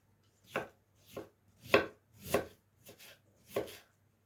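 Knife slicing through red cabbage for pickling, six distinct crunchy cuts landing in an uneven rhythm, close and crisp against a quiet background.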